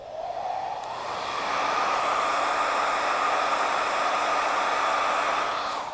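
A hair dryer blows steadily with a constant airy whoosh that swells slightly after the start and holds level, close by with no voices.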